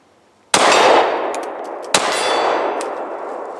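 A CZ P10c pistol fires two shots at steel targets. Each one rings out as a sharp, loud metallic clang that decays slowly, and the second comes about a second and a half after the first.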